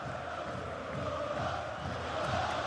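A near-capacity football crowd roars at the Vicente Calderon stadium during Atletico Madrid against Barcelona, a steady dense wash of chanting and cheering voices at a distance.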